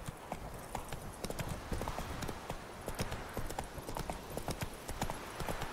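Horse hooves clip-clop in a steady, brisk rhythm as a rider travels at night toward Mittelhain in The Witcher 3, the galloping close and continuous throughout with no voices.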